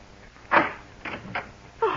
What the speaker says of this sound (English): Roger, unlock this door.